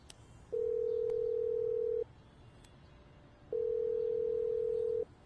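A telephone call rings out with its ringback tone: two long, steady, fairly loud beeps of about one and a half seconds each, separated by a quiet gap, with no talking.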